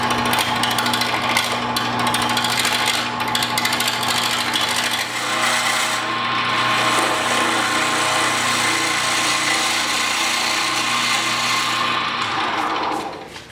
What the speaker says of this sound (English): My first time turning with carbide tools, so forgive me, I'm a bit of a novice with these.